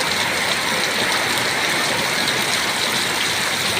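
Heavy, continuous rain falls in a constant rushing wash of drops, unbroken and close for the whole stretch, with no one speaking.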